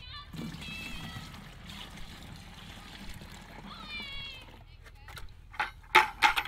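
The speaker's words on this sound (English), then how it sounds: "I'm basically gonna pour it in my watering can." Fertilizer solution mixed with water and adjuvant is poured from a bucket into a garden watering can, giving a splashing, gurgling stream near the start that fades, then a few sharp knocks and clatters at the end.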